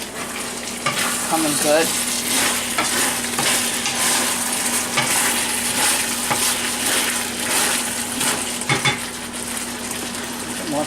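Chicken and pineapple sizzle and crackle steadily in a stir-fry pan, a loud, continuous frying hiss with occasional utensil scrapes and a short spoken remark.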